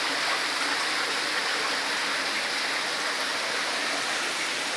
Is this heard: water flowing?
yes